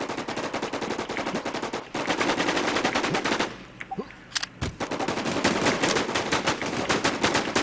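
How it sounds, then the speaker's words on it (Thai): Rapid automatic gunfire from a shooter video game rattles in long, dense bursts, breaking briefly for a few scattered single shots before the sustained shooting resumes. "เฮ้ยกูได้ยินเสียงปืนเหมือนทางขวากูว่ะ"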